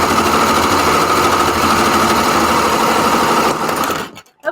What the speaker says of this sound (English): let me just show you what happens whenever you stitch on the serger